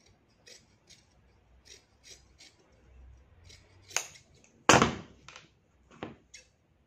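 Scissors cut through the waistband of knit trousers in a quiet room, with soft, spaced snips and clicks. One sharp, louder cut stands out near the end before a few lighter snips.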